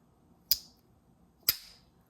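A modern slip joint pocket knife blade snapping shut twice, about a second apart, each a sharp, crisp crack like a cap gun firing in an otherwise quiet room.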